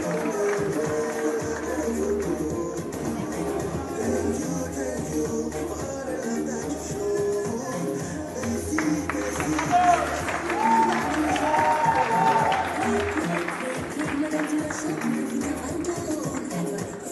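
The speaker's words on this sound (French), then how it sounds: "Des applaudissements pour Mel Création." Applause from an audience for a fashion designer, a sustained, moderately loud wash of clapping mixed with crowd murmur and a voice, swelling slightly toward the end and continuing throughout.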